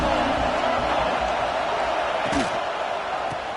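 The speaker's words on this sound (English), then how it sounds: "This crowd ready to make its presence known." A stadium crowd at a USC versus Wisconsin college football game keeps up a steady, dense roar of cheering and noise, with a brief sharper accent partway through.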